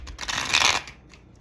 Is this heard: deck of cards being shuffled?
yes